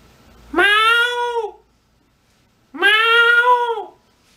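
Two long, drawn-out meows from a human voice imitating a cat, performed as foley with a pause between them, each loud and close with a rising then falling tone.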